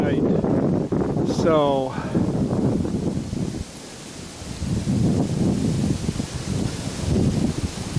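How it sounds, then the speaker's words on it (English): Wind blowing across a winter campsite, a steady rushing roar and microphone buffeting that fills the whole stretch, with a brief voice at the start. "And I'm sure that wind blowing, picking up here tonight."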